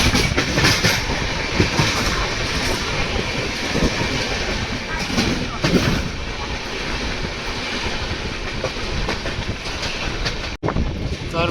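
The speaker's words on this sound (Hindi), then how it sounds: "वलसाड़ से निकल चुकी है हमारी ट्रेन" A train rolls steadily along the rails after leaving Valsad, a loud continuous rumble with rhythmic clickety-clack of wheels over joints, heard from inside the carriage for the whole stretch.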